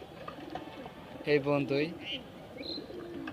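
Pigeons fetched from an older brother's house coo softly in a loft, a short burst of throaty coos in the middle against quiet background, with someone speaking briefly.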